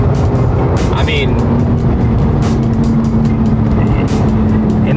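Steady, loud engine and road roar inside a 2022 Porsche 911 Turbo S with an 8-speed PDK transmission, accelerating at highway speed, with a faint rise in tone; someone speaks briefly over it.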